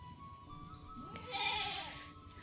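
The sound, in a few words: goat bleating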